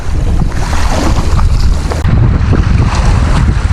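Strong wind buffets the microphone by the sea, roaring loudly and continuously over the wash of waves.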